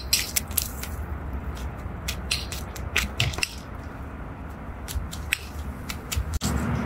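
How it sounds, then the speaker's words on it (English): A chisel struck with a hammer strips bark from an aspen or linden wood log, producing irregular crunching, splintering taps and scrapes at close range without any talking. "this chisel and hammer and just getting rid of that bark first"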